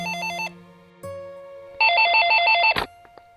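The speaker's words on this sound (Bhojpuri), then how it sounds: "बेटी तनी देखा था केकर फोन आई?" A telephone ringtone plays in two electronic melodic bursts, the second louder, ending abruptly as it is answered; no one speaks.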